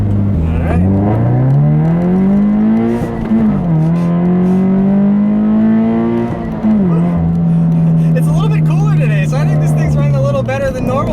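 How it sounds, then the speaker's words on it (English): A Subaru BRZ revs up loudly nearby with clear rising engine pitch, its gear changes breaking the note twice before a steadier cruise as the revs settle. "I'll leave you with a nice little acceleration here, like I always do, and a few little rough batch downshifts as well"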